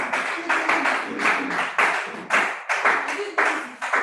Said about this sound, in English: let's give a round of applause as she comes